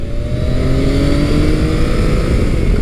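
Modified Yamaha FJ-09 motorcycle engine pulling hard under acceleration, a loud close roar rising steadily in pitch with wind rush and no talk.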